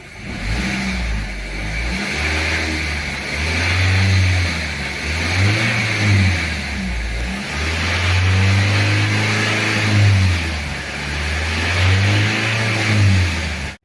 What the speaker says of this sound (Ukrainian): Пробуємо дати газу, побачимо, що воно.